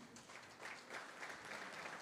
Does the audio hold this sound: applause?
yes